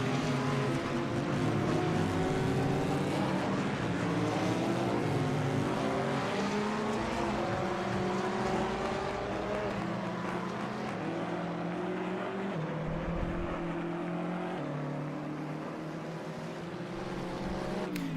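Race cars, Porsches and BMWs including the 96 Turner BMW, roar past at the Rolex 24 at Daytona, a steady loud engine drone with shifting whining pitches that rise and fall as the cars run close together.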